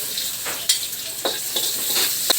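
Onion sautéing in a pan as filling for lumpia togue, a steady sizzle with a few sharp stirring scrapes spaced through the short stretch, close and alone with no talk.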